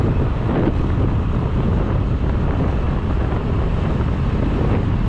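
Boat pushing through rough sea, with strong wind buffeting the microphone and surf crashing in a steady, loud roar that fills the whole stretch without pause or speech.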